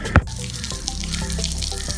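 Water runs from a tap or water cooler, a steady close splashing stream after a brief sharp knock at the start, with no talking over it.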